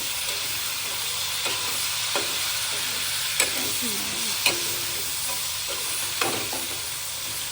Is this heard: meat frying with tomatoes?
yes